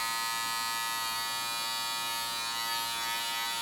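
Wahl Retro T-Cut hair trimmer running alone, a steady high-pitched electric buzz held at even volume for a few seconds.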